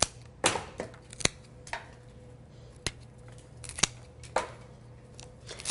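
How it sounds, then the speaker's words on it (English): Scissors snip flower stems for a low floral centerpiece, giving sharp, isolated clicks spaced about a second apart, close and crisp over a quiet background. "I'm going to trim the first one, and I'm going to follow suit with all the others"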